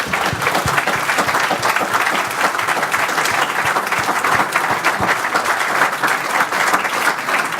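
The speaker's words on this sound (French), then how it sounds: "merci Abdelatif, je pense qu'on peut encore t'applaudir." A conference audience at Club Delville gives loud, close applause, with crisp individual claps standing out from a dense, steady ovation that runs for over seven seconds without speech.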